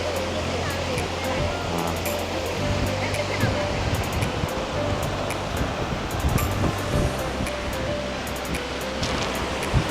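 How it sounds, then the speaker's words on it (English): Water tumbling down a tall waterfall in New Zealand, heard at the start of a hiking trail: a loud, steady rushing roar that holds throughout. "ဒါကကျွန်တော်တို့အခု waterfall အစကိုရောက်သွားပါတယ်"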